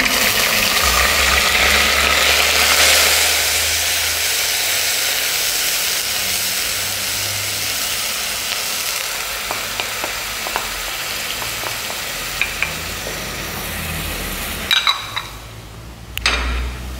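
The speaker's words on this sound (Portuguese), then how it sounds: "refogando o azeite de dendê, a cebola com azeite de dendê e o azeite de oliva" Onion sautéing in a pan with dendê palm oil and olive oil, a steady close sizzle and hiss that gradually softens, with a few clinks toward the end.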